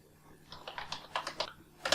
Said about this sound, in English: And you can type any text here.